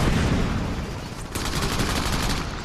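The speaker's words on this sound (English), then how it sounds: "they just sniped me out of the air" Crackdown gunfire crackles as a loud, sustained fusillade of rapid shots mixed with sharper cracks, heard close and continuous throughout without speech.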